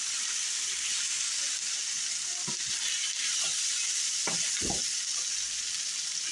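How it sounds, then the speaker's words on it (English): Sour cream being stirred into Hungarian chicken sizzling in a pan, a steady frying hiss throughout with a few soft scraping stirs near the end. "mix your sour cream in there with it"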